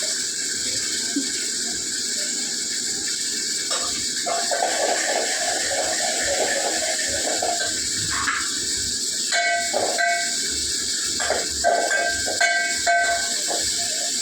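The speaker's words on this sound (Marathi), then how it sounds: "छान परतून घ्यायचं टाकायची हळद" Vegetables sauté with turmeric in a pan, a loud constant sizzling hiss close by, with occasional clatters from stirring.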